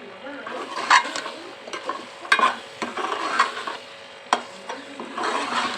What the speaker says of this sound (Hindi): मसाला अच्छी तरह हम भुनेंगे, ये जाम हो जाए और ऑयल छोड़ दें।